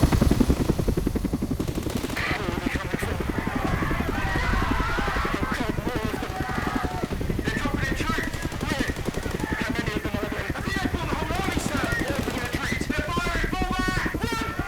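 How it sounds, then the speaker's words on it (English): A helicopter fires on a building in the video game Not for Broadcast: rapid, continuous machine-gun bursts rattle for many seconds over a droning rotor, loud and close, with scattered voices and game sounds mixed in. "Well, I think the helicopter shot the building with the red smoke"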